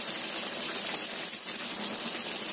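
Tofu frying in hot oil until golden, a steady, dense sizzle with fine crackling that runs evenly throughout, close and fairly loud with no voices.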